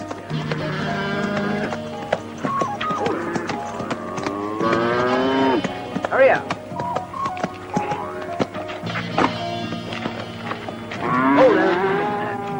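Cattle moo loudly and repeatedly at close range, with long, drawn-out calls overlapping one another, in a scene from a 1972 Western film.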